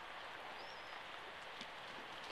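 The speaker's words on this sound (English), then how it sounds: "It's raining" Rain falling outdoors, a soft, even hiss of drops, faint and steady throughout.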